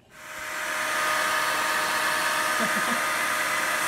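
A hair dryer starts up and blows with a loud, steady, close whoosh that holds for several seconds without a break.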